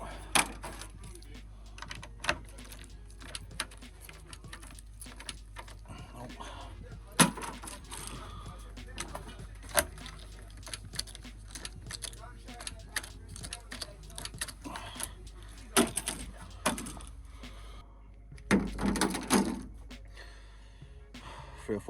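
A bunch of keys jangling in a junkyard, producing intermittent metallic jingles and rattles over steady background noise, with occasional louder bursts.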